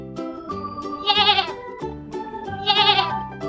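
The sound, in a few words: goat bleating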